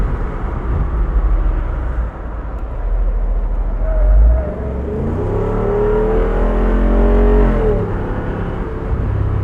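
A 2024 Jeep Wrangler 392 V8 revs hard while driving with the roof off, its deep engine note climbing in pitch and loudness, then easing off over a low road rumble, with no voices.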